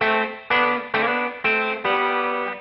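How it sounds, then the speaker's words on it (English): Five clean Telecaster electric guitar chords strummed one after another, each ringing bright and undistorted before the next, played alone with no voices. "For country or chicken picking playing, I prefer a clean Telecaster sort of sound."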